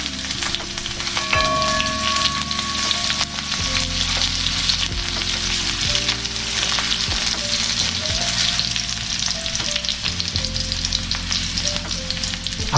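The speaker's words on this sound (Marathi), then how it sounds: "आता तेल गरम झाले आहे व मी त्यात प्रथम कापलेली हिरवी मिरची टाकतोय." Chopped green chilies fry in hot oil in a kadai, a steady loud crackling sizzle with occasional stirring scrapes, no talking.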